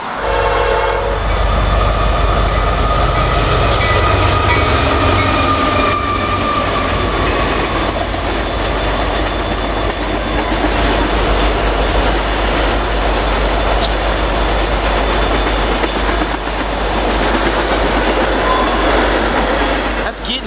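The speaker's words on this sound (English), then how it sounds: "For an empty oil train." A loud empty oil freight train rumbles past up close for a long stretch, steady heavy rolling noise with clattering wheels and a horn near the start.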